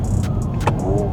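Artificially generated engine sound of a lowered 2026 Honda Prelude on a downshift: a steady low throbbing hum with a brief rise in the middle, close and fairly loud, with no talk.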